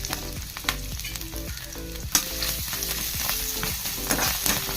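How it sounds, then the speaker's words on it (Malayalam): Onion fries in hot coconut oil in a pan, a continuous close crackling sizzle broken by repeated spatula stirs and scrapes against the metal, with no voices. "പാൻ ചൂടായി വെളിച്ചെണ്ണ ഒഴിച്ച് കുറച്ച് സവാള ഇടാം."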